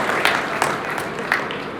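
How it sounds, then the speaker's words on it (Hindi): An audience applauds at a 101st birth anniversary ceremony in Bhiwani, a steady patter of clapping with a few sharper claps standing out, close and fairly loud throughout the short stretch. "एक बार इनके लिए भी जोरदार ताली बजाओ"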